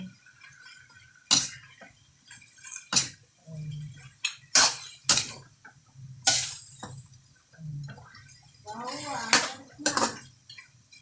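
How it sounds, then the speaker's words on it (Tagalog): A spoon scrapes and clanks against a cooking pot while food is stirred, sharp metallic knocks scattered between softer sloshing, with someone talking quietly in between. "Tapos, haluin. Haluin again."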